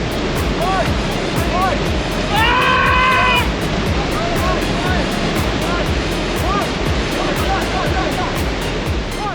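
Steady roar of big surf at Nazaré fills the whole clip, a continuous wash of breaking waves with a brief tonal cry rising above it midway.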